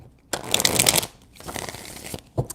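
Tarot cards being shuffled by hand, a crisp fluttering riffle lasting under a second, a pause, then a longer softer shuffle and a final short flick, close and clear with no talk.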